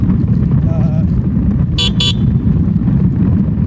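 Loud, rumbling street traffic with engines droning close by and two quick car horn toots cutting through, heard while riding an e-bike on a commute.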